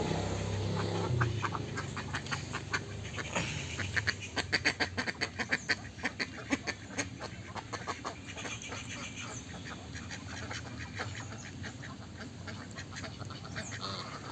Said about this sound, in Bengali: আর ওই হাঁসগুলো দেখুন